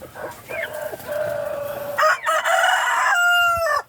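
A Rhode Island rooster crows loud and close in one long drawn-out call, with faint clucking from other chickens nearby.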